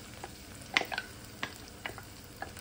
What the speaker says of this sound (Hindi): अब हम डालेंगे ब्राउन ऑनियन पेस्ट, जो अभी ब्राउन ऑनियन था